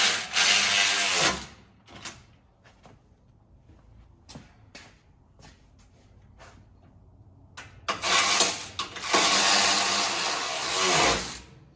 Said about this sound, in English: I just tightened the back bolts on either side